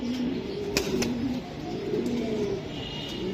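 Racing pigeons coo in low, rolling calls repeated several times, fairly close, over a steady hiss of background noise with a few sharp clicks.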